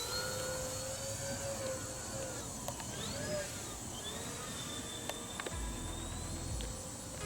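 An E-flite EC-1500 Twin RC plane holds inverted Harriers overhead, its twin motors giving a thin, wavering whine that rises and falls at moderate distance, with someone speaking over it.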